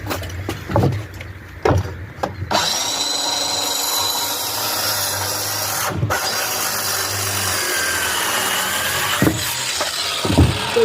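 A Makita 36V LXT cordless saw bites into wood with a loud, steady grinding whine that runs for several seconds, catches and jams for a moment, then carries on cutting. Some short handling knocks come before it.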